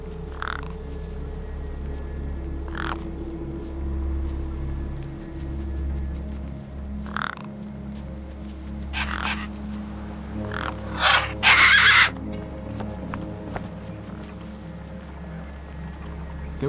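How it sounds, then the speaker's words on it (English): Crows cawing in the video game Beyond a Steel Sky, gang birds gathered over a corpse, several separate caws spaced a few seconds apart over a low steady ambient hum, with a louder burst near the end. "No way I was going to get between those birds and their feast."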